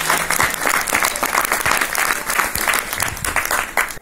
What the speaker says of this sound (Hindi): बजा के इनको स्वागत किया जाए।